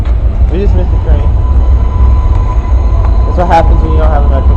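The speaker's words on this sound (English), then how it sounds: "We just missed the train." A New York City subway train rumbles loudly nearby with a continuous low roar and a thin steady whine, under brief bits of people talking.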